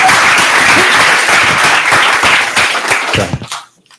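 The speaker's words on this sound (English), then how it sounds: "Not enough claps in the world for these two young guys." Audience at an Effective Altruism Netherlands gathering breaks into sustained, dense applause that holds steady, then thins into scattered claps and stops.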